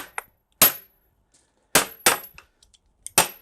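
A clamp is banged onto a Hayward pool filter tank, giving four or five sharp metallic whacks at irregular intervals, each a loud close crack followed by short silence.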